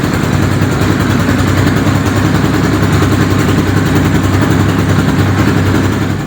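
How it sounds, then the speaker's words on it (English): A Thumpstar TSB250 dirt bike engine runs at a steady, loud idle right after starting, with a continuous low thumping rumble and no voices. "we can now go ahead and hit the starter, and away she goes"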